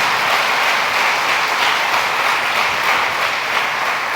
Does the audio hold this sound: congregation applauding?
yes